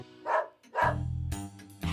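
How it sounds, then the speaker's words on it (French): An animated French cartoon dog barks in two short, loud yaps followed by a longer, growling bark, close and clear, with no talk over it. "Il est enragé, votre chien!"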